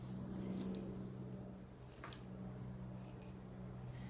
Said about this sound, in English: all we do every couple of weeks is trim along the bottom of the mane